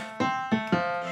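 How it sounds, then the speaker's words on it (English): Three struck piano-like notes from a Knobula Pianophonic polyphonic wavetable synthesizer, each with a bright attack and sustained harmonic ring, played alone at moderate volume. "piano sounds like this"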